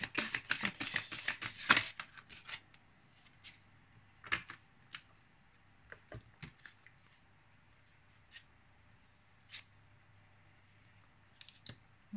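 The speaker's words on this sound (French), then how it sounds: "on va battre quelques cartes" Tarot or oracle cards being shuffled close by, with a dense riffling flutter of card edges at first, then scattered single taps and slaps of cards set down in a quiet room.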